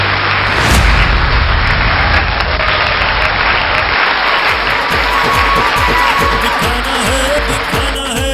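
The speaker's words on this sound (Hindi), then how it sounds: "जोरदार तालियों से please welcome on the stage." Loud, dense applause from an audience welcoming a newly honoured achiever onto the stage at a celebration event, a steady roar of many hands clapping throughout with a few louder bursts near the start.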